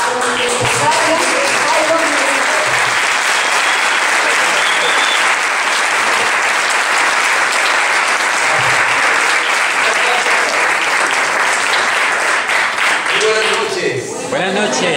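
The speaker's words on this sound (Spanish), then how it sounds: "vamos a darle un gran aplauso a los empresarios" Loud, sustained applause from an audience for entrepreneurs at a business orientation evening, a continuous wash of many hands lasting throughout, with some voices audible under it and a speaker starting at the end.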